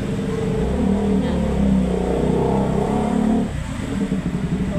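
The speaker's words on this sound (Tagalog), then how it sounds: "Pero yung mga kotse lang naman, ordinary car lang, mga ganito yan." Ordinary cars crossing the San Juanico Bridge, a loud, steady engine and road roar of passing traffic heard up close, with a brief drop and shift in the noise near the end.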